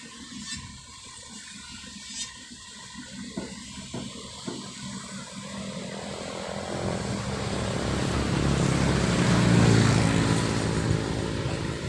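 A low boat engine drone steadily builds and grows louder over a constant background rumble, like a motorboat passing close by on the Musi River in Palembang.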